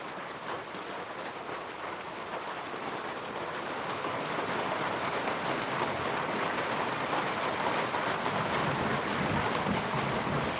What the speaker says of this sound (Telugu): మళ్ళీ వర్ష తీవ్రత పెరిగింది వర్షం కొంచెం ఒత్తుగా కురుస్తుంది